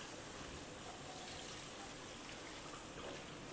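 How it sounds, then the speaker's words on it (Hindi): Water poured into a pan of yogurt-based curry masala for mutton kofta, heard as a soft, steady trickling wash that stays quiet and unbroken throughout. "थोड़ा सा इसमें पानी डाल देते हैं।"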